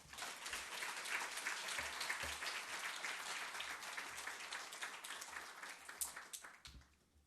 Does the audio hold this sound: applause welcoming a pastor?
yes